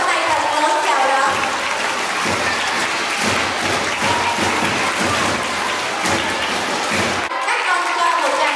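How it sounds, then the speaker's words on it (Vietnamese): Children in a school hall applaud together to welcome a speaker, a dense steady crackle of clapping filling most of the stretch, with a voice over a loudspeaker briefly heard at the start and end. "Các con cho một tràng pháo tay thật lớn chào đón."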